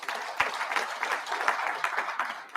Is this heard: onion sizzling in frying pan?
no